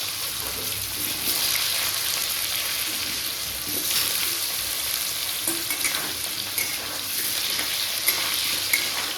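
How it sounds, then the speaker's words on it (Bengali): Cut potatoes frying in hot oil while a village cook prepares a light shol fish curry, giving a steady close sizzle with faint stirring scrapes throughout and no talk. "আলু কাটা ভেজে নেবো।"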